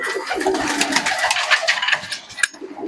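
Domestic pigeons kept at a home loft coo softly and repeatedly against a hissy, busy background, with a few brighter bursts of sound scattered through the short stretch.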